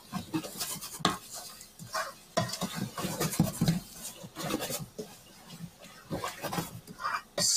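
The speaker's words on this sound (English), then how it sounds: "So yeah, high heat, stir it. And as we're stirring, you can see it's starting to come off the bottom." Onions being stirred in rendered bacon fat over high heat in a pot: irregular scraping and clinking of a utensil against the pan, fairly close and soft, with no talking.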